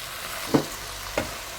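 Fava beans sautéing in a pan sizzle softly and constantly, broken by two short scraping stirs about half a second apart.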